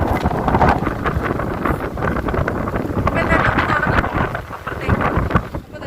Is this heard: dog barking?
no